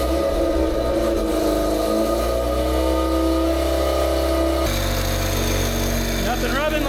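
A freshly rebuilt Mazda Renesis rotary engine in a hybrid build fires for the first time and runs with a steady, buzzing drone. The note shifts abruptly partway through and then settles into a rougher, brighter idle.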